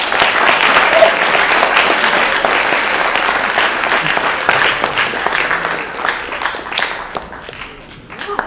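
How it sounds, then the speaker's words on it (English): An audience at a high school alumni panel session breaks into loud, sustained applause, dense clapping that holds steady and fades slightly near the end. "Why don't we give our panel a round of applause?"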